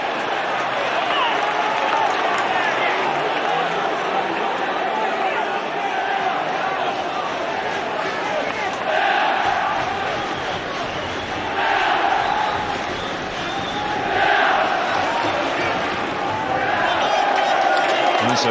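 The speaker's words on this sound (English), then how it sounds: "Big cheer from the Ayr supporters." Ayr supporters cheer loudly at a Scottish football match against Kilmarnock, a dense, sustained crowd roar that swells in several surges and carries throughout.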